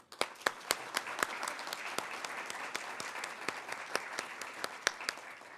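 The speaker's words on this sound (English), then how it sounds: "Please join me in a round of applause." Audience applause at a military dog commissioning ceremony, a sustained patter of many hands with a few sharp, louder claps standing out near and far, steady throughout without speech.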